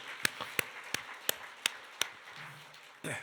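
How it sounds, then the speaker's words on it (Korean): A church congregation at a Korean festival worship service claps in unison at an even, steady beat. About seven sharp, distinct claps sound over a quiet room before a brief louder burst at the end. "하나님께 박수를 한 거야."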